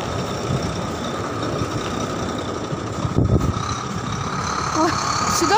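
A large construction truck rumbles along a snowy residential street in winter, its engine a steady, fairly close drone with a high-pitched beeping tone over it, while a person talks nearby.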